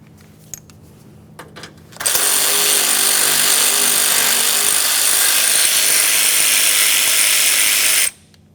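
A 1994-1997 Honda Accord's 10mm upper mounting bolts on the AC condenser fan are backed out with a ratchet: a few faint clicks, then a loud continuous rapid whirring ratchet buzz lasting about six seconds before stopping abruptly.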